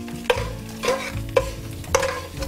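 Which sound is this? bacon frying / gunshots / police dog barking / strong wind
bacon frying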